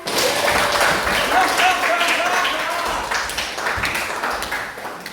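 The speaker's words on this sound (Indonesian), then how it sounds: "Aplaus untuk kita semuanya" Group applause in a classroom guidance session, steady clapping from many people at moderate loudness, gradually tapering, with a voice speaking over it.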